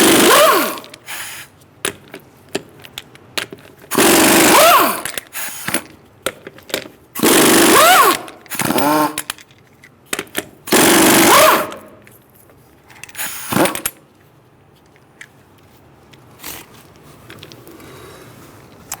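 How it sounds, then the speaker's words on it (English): Power tool with a 19mm socket spinning off rear wheel lug nuts on a 2014-2018 Subaru Forester, several loud close bursts of whirring and rattling separated by pauses, fading to quieter handling noise at the end. "I'm going to use a 19mm socket to take the lug nuts off the rear wheel."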